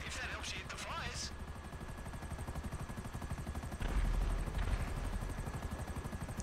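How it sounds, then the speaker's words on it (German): A helicopter in GTA V Online chops away steadily with a rapid, pulsing rotor beat throughout, while gunfire bursts and heavier impacts break in, with a voice heard briefly early on. "So, den einen Heli habe ich schon mal runter. Da ist der nächste direkt."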